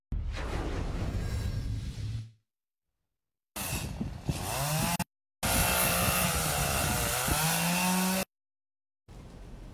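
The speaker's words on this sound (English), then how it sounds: "Why she's armed with a chainsaw" A chainsaw wielded by a nun cuts through a fallen tree branch, loud buzzing bursts of the motor revving and bogging into the wood, broken by abrupt silent gaps between separate cuts.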